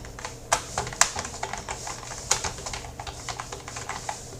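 Fast, steady typing on a computer keyboard, close and clear with irregular clusters of key clacks and a few louder strikes, no voice.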